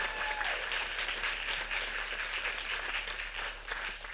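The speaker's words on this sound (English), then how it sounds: "They could be clapping all night." Audience at a City Market co-op member meeting applauding staff, a dense, continuous patter of many hands, steady and moderately distant, with no talking.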